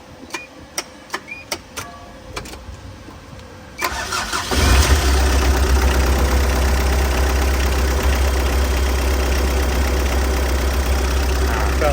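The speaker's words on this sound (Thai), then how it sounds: "เดี๋ยวเปลี่ยนชุดสายพานเทมมิ่งเรียบร้อย สตาร์ทเครื่องดู" A Tata truck diesel engine is cranked after a timing belt and head repair, with several sharp starter clicks and attempts, then catches and settles into a loud, steady clattering idle.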